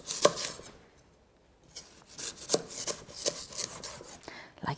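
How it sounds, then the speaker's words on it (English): Knife cutting celery into little strips on a board, a few crisp chops, a brief pause, then a quicker run of close, moderately quiet cuts. "And then we're just going to start bringing our celery into little strips."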